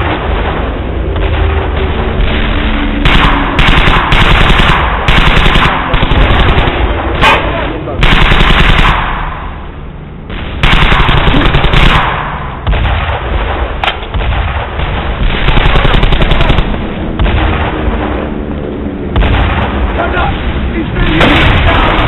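Dense, continuous machine-gun bursts and rifle fire in the video game Brothers in Arms: Hell's Highway, with occasional heavier booms. The firing is loud and close throughout, with soldiers' voices shouting under the gunfire.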